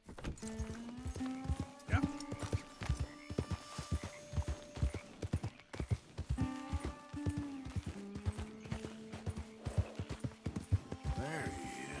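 Horse hooves clip-clop in steady uneven beats in Red Dead Redemption 2, with a whinny among them, while people talk over the scene throughout.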